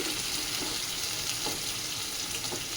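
Chopped tomatoes and green chillies hit a hot pan in a home kitchen, giving a dense, steady, close sizzling hiss that holds evenly throughout with no voices.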